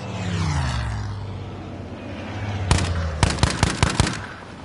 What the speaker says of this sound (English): was that just an airplane that flew really low?